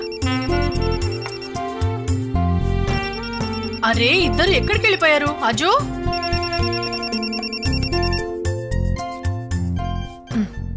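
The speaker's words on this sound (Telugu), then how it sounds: "ఎవరన్నా ఫోన్ తీయండమ్మా." A telephone rings in repeated electronic bursts over background music, while a woman calls out between the rings.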